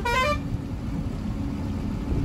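A truck horn gives one short, loud blast at the very start, then cuts off, leaving a steady low rumble of engine and road noise.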